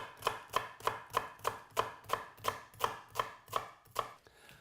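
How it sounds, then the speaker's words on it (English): A knife slices through an onion on a cutting board in about thirteen evenly spaced, crisp chops, each a close, sharp knock against the board, with nothing else heard. "Start off with an onion. Slice."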